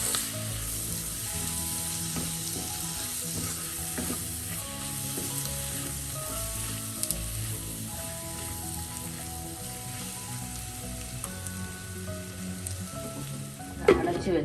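Chopped tomatoes frying in a pan and being stirred into masala with small onions for a prawn varattiyathu, a steady soft sizzle with scraping stirs and a louder clatter near the end, no speech.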